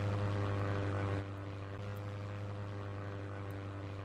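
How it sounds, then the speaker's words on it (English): A propeller airplane drones faintly in the distance as it passes overhead, a steady low hum that drops slightly in level after the first second and then continues evenly, with no talk. "a nice little bit of background plane noise"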